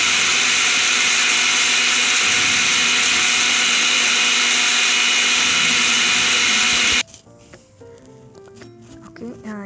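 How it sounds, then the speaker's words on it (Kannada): A mixer grinder whirs loudly and continuously, powdering dried coconut, then stops abruptly near the end, leaving quieter rattling and handling sounds. "ಹಾಗೆ ಇದನ್ನು ನಾವು ಮೊದಲು ಪೌಡರ್ ಮಾಡ್ಕೊಳ್ಳೋಣ, ಮಿಕ್ಸಿ ಮಾಡಿಕೊಂಡು"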